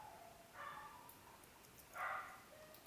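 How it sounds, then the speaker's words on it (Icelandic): A dog barks and yips a couple of times in the background, faint and distant, with two short bursts and no talking. "hundagelt í bakgrunni"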